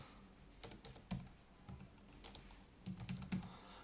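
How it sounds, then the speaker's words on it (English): Computer keyboard typing in a quiet room, a few short bursts of key clicks with pauses between, close and fairly soft, no voices. "If I can type."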